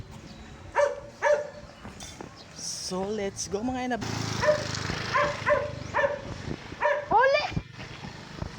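Pet dog barking a few times outdoors while someone talks over it, with engine noise in the background.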